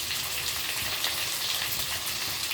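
Potatoes fry in oil in a pan for a Bengali-style spicy chicken dish, giving a steady, close, even sizzle with fine crackling throughout and no voices.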